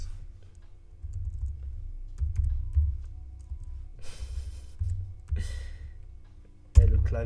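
Keys clack on a computer keyboard during live coding, scattered bursts of close typing with irregular rhythm, moderately loud, and one sharper knock near the end.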